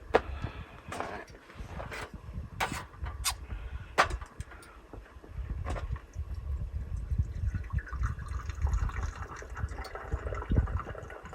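Liquid poured into a container at a winter camp, a quiet trickling and filling sound with scattered splashes and clinks, faint and close, without speech.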